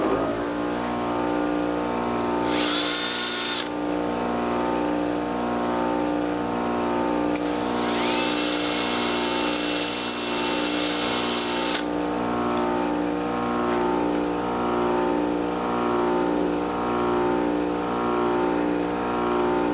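Rotating a homemade metal probe tip against a spinning tool to chamfer its end, a steady motor drone with tonal hum, broken by two bursts of bright grinding hiss, close and alone.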